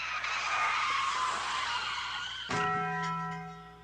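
Car tires screech in a long, loud sustained skid, then a sudden hard impact with ringing tones as the vehicle crashes through front doors into a lobby.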